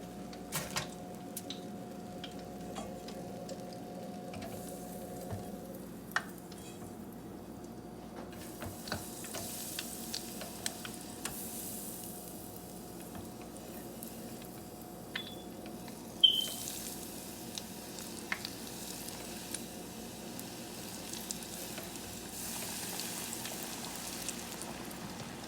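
Buffalo shrimp frying in hot oil, a steady soft sizzle and crackle running throughout with occasional small pops, close by and without any talking.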